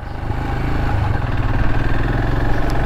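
A Royal Enfield Himalayan motorcycle fitted with a belt-drive conversion kit runs close and loud, its engine holding a steady, slightly rising rumble with a rhythmic mechanical pulse.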